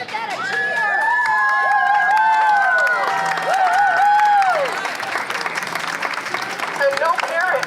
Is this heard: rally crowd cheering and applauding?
yes